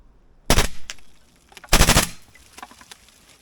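Two short bursts of suppressed automatic gunfire ring out from a small dugout, each a dense rapid volley about a second long, loud and close, separated by a brief pause with faint echoes trailing after.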